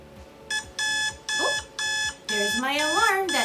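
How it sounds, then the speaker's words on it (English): School alarm clock marking the start of the next class, four evenly spaced loud electronic beeps, each lasting about half a second, with a person talking over and after them. "there's my alarm that tells me my next class is starting"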